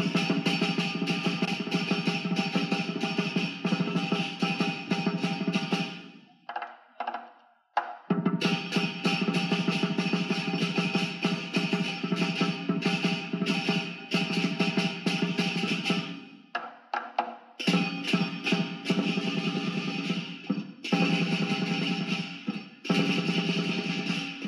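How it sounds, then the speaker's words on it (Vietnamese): Loud, continuous lion dance drumming with crashing cymbals for Vietnamese Tết, dense and driving, pausing briefly twice before resuming at full force. "đó là âm thanh của tiếng trống lân"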